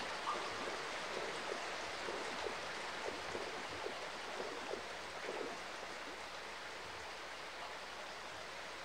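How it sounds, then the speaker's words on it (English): Flowing water in the video game Hype the Time Quest: a constant, fairly faint gushing with light splashy texture, steady from start to finish and heard alone. "Water flowing from that."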